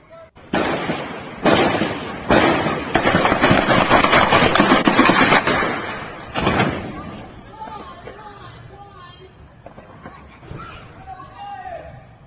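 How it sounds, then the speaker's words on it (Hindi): Rapid bursts of gunfire from the Hamas attack on Israel, aimed at a car and civilians, crack out as a series of loud, sharp blasts in the first seven seconds, then fade to quieter, scattered noise. "आप देखिए ताबड़तोड़ फायरिंग इस कार को टारगेट करते हुए, सिविलियंस को टारगेट करते हुए की गई।"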